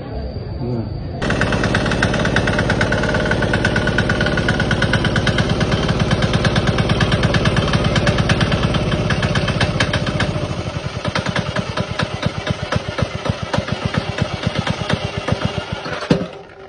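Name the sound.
diesel engine 170 6.5HP running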